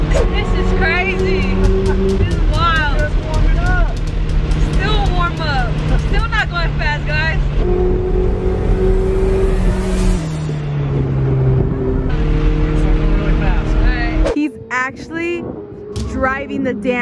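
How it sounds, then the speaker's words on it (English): Lamborghini sports car driving hard and drifting, engine roaring and revving with shifting pitch throughout, loud and close, with excited voices and music overlapping the engine noise. "Driving the damn car."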